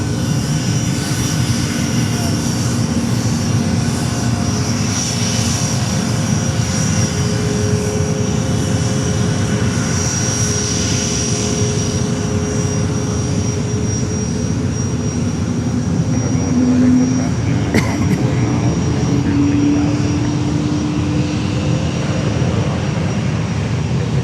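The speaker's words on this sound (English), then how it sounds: "Takeoff Spirit 320 Neo." A Spirit Airlines Airbus A320neo taking off at Fort Lauderdale airport, heard as a loud, steady roar of jet engines throughout, with a whining tonal hum over a broad rumble, held continuously rather than rising and fading.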